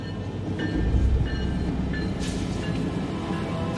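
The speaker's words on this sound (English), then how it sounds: "The train with which the French wanted to prove their mastery over the desert is still the best way to get to eastern Mauritania." An iron ore train rumbles steadily through the Sahara in Mauritania, a loud continuous low roar of heavy wagons with faint metallic squeals and rattles, no voices.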